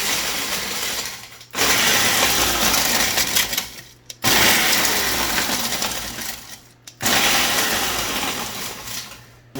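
Bread crumbs with fresh thyme, garlic powder and dried basil are pulsed in a food processor in three loud whirring bursts, each roughly two to three seconds long, separated by brief silences.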